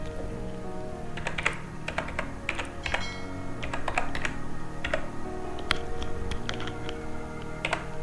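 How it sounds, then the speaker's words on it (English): Typing an email address on a computer keyboard, a quick irregular run of close, crisp key clicks over a faint steady hum. "And type here your email address."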